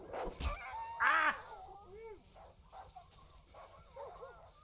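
Dogs yelp and whimper in a scary woodland video game, several short high cries and a louder bark burst near the start, with a voice speaking briefly among them.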